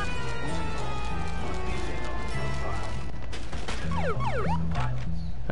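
A police siren in the video game Bully wails, sweeping up and down in the background, mixed with a steady low engine drone and other busy noise; no clear talk.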